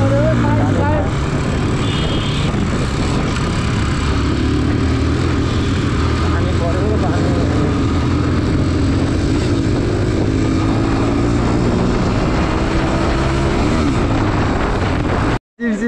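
Heavy rain pours down in rural Rolpa, Nepal, where people shelter with their motorbikes. A dense, loud, steady roar fills the whole stretch, voices talk through it, and it cuts off abruptly at the end.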